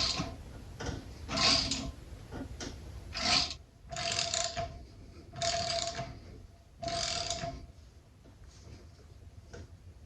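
Ratcheting clicks from a puller being cranked to pull the harmonic balancer off an LS engine, several bursts of mechanical ticking spaced over about eight seconds, close and moderately loud.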